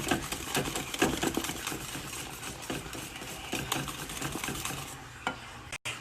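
A whisk works polenta in a cooking pot, stirring and scraping steadily and close for several seconds, with a faint sizzle underneath and a brief break near the end.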